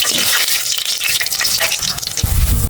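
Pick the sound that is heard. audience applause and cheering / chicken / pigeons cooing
chicken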